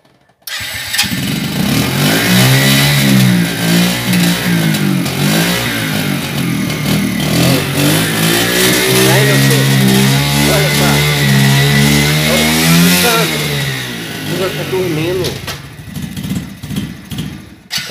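A motorcycle engine revs loud and close for about fifteen seconds, its pitch repeatedly rising and falling as the throttle is blipped, then cuts off near the end.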